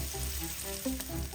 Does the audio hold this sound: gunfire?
no